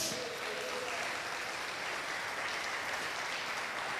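A church congregation applauding during a Spanish-language sermon, a steady dense wash of clapping held at an even level from start to finish, fairly distant and a little muffled, with no voices on top.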